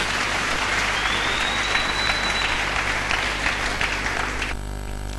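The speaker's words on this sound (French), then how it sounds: "Acclamons le Seigneur Jésus" A church congregation applauds: dense, loud, continuous clapping filling the space for several seconds, steady to the end.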